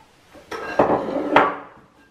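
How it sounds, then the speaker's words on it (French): Walnut tart batter is worked in a bowl, giving three distinct clinking knocks of a utensil against the dish, close and fairly sharp, with a short ringing tail after each. "Je mélange."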